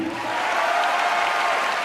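A game show audience at a convention applauds a guest on stage, a steady, dense patter of many hands clapping at fairly close range with no break.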